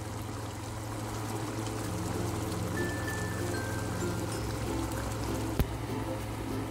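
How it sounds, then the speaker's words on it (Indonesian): Instant coconut milk is poured into a beef dish, giving a soft, steady trickling stream over a low kitchen hum, with one sharp tap near the end. "Sekarang akan saya tuang santan instannya ya teman-teman."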